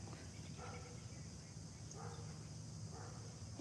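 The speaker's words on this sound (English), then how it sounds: "I don't know if you guys hear the dog" A dog barks faintly in the distance outdoors in a garden, three soft, widely spaced barks over a steady low background hum.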